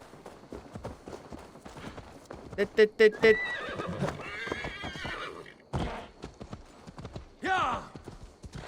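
A horse in the Assassin's Creed Valhalla video game gives several loud whinnies and snorts over clip-clopping hooves, while a player talks intermittently through the sounds.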